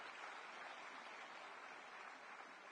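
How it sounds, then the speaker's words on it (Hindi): Applause rolls through the crowd at a Delhi appointment letter ceremony led by Lieutenant Governor VK Saxena, a dense, steady patter of clapping heard from a distance and fairly faint. "जोरदार तालियां।"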